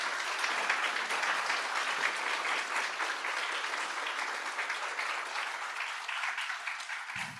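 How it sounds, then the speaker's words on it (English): Sustained applause from a conference audience at a healthcare policy panel, honoring the co-panelists; dense, steady clapping fills the room at an even level and stops abruptly at the end. "I want to ask everyone to now give my co-panelists a round of applause"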